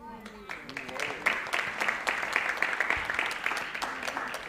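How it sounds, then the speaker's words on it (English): An audience at a family wedding celebration applauds steadily, a dense patter of many hands clapping that carries on throughout at moderate loudness, with no clear speech on top. "Please give a round of applause for Mr. Anil Agarwal."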